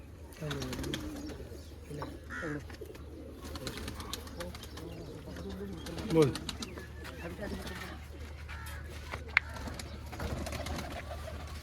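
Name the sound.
pigeons cooing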